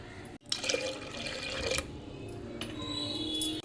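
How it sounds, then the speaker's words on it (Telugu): Water poured into a pressure cooker holding washed toor dal, a steady splashing fill with a few drips, close and alone in a home kitchen. "మనకు పప్పు ఉడికే అన్ని నీళ్ళు పోసుకోవాలి."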